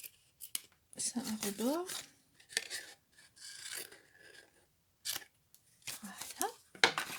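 Scissors snip through card for a handmade gift box kit in a few short, close, raspy cuts separated by pauses, while someone talks between and over them.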